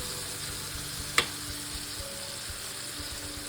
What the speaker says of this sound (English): So I had just put just a little bit of olive oil in the skillet just to get it started a little bit.